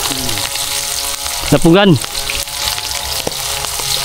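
Catfish frying crispy in hot oil, a steady broadband sizzle running throughout, with a voice speaking briefly over it partway through.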